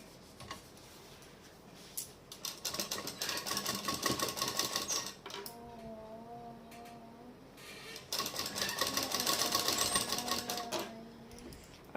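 A sewing machine stitches a gown in two bursts of rapid, close clatter separated by a pause in which someone talks, then runs again before stopping.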